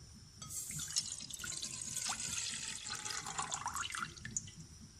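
One and a half cups of water pour into a saucepan sitting over a lit flame while balushahi syrup is being made. The liquid splashes and gurgles continuously and close up for several seconds.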